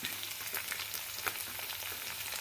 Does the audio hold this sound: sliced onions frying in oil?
yes